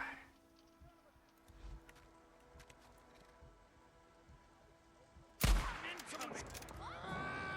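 A loud burst of rifle gunfire in the zombie survival video game Days Gone cuts in suddenly after a quieter stretch and rings on with echoing reports and crackle.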